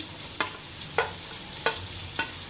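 Cashews and mushrooms fry in oil in a pan for an Indian mushroom curry, giving a faint, steady sizzle. About four sharp, evenly spaced clicks of a spoon stirring against the pan stand out above the hiss.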